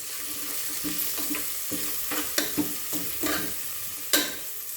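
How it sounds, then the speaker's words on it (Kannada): Washed moong dal dry-frying in a pan, a soft continuous sizzle with intermittent scraping stir strokes close by, no talking over it. "ಹೆಸರುಬೇಳೆ ಹಾಕ್ತೀನಿ. ಇದನ್ನು ಸ್ವಲ್ಪ ಫ್ರೈ ಮಾಡ್ಕೊಡೋದ್ರಿಂದ ನಿಮಗೆ ಅದರದ್ದು ಹಸಿ ವಾಸನೆ ಹೋಗುತ್ತೆ"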